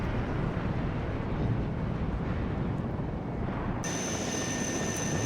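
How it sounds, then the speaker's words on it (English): A Mi-8 helicopter flying in the WARNO war game, a dense, loud, continuous engine and rotor roar with broadband rumble, steady throughout with no voices. "And then we have another Mi-8 helicopter coming in as well."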